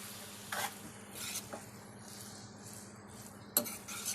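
Cooked pasta stirred and tossed in butter in a pan, quiet and close, with a few distinct scraping and clinking strokes over a faint low hum and soft sizzle.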